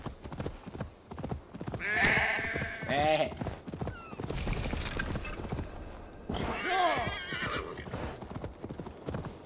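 Horse hooves clip-clop steadily in Assassin's Creed Valhalla, with a horse neighing and whinnying at points, while someone talks over much of the riding.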